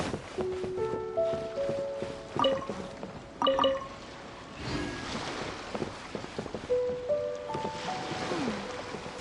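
Ocean waves in the video game Genshin Impact wash steadily beneath layered game chimes and tonal music cues, a continuous soft surf bed rather than distinct breaking crashes.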